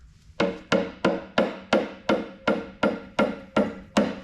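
Eleven evenly spaced metallic taps, close and fairly loud, struck while loosening a part during the teardown of an Allis Chalmers Model D grader engine, with no talk over them.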